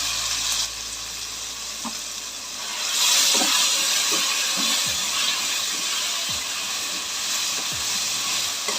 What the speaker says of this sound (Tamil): இப்போ இஞ்சி பூண்டு பேஸ்ட்டு ஒரு 1/4 டீஸ்பூன் போட்டுக்கிறேன்.